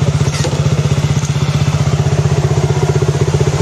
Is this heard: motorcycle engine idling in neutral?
yes